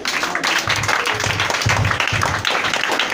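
Rhythmic hand clapping from a church congregation during a French-language worship service, a run of loud close claps with a few voices mixed in.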